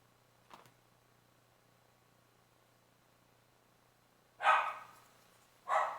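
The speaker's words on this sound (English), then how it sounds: "Sorry about my dog. Something outside is bothering him." A dog barks indoors in two loud, short bursts near the end of a mostly quiet stretch, with a faint knock or tap earlier.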